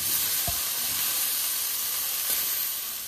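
Capsicum sizzles and fries in a hot pan with fenugreek greens, a steady close hiss running throughout with a brief clatter near the start.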